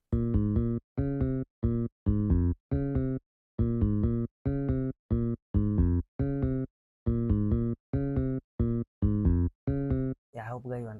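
A hip-hop beat programmed in FL Studio for a song remake: short, punchy bass-heavy synth notes and drum hits repeat in a steady choppy pattern, loud and close, ending in a brief sweeping effect, with no talking.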